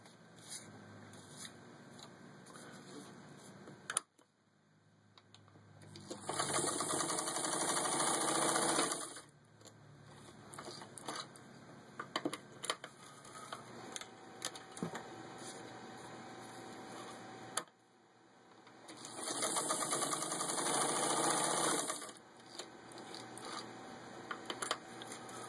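A serviced vintage 1948 Singer 15K88 sewing machine stitches through four layers of vinyl upholstery in two quick, whirring runs, each a few seconds long, with quiet handling clicks and pauses between them.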